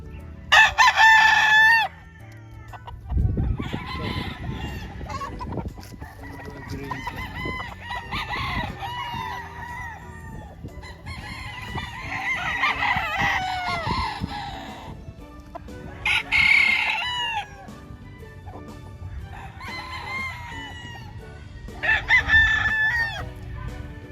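Gray and white Kelso gamefowl roosters crowing repeatedly at a gamefowl farm in Lipa, Batangas, with about six loud, drawn-out crows spaced a few seconds apart over low clucking and farmyard background noise.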